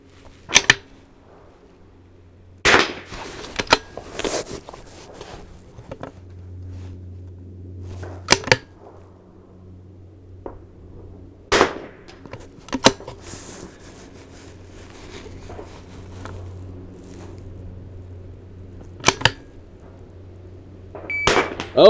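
Rifle shots at an NRL22 match ring out as sharp, isolated cracks spaced irregularly over a long quiet stretch, with a low hum running in the background and no talk.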